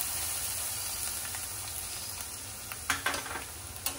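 Carrot halwa sizzles steadily in a hot pan as ghee-fried dry fruits are stirred in, with a few sharp scraping knocks of the spoon near the end.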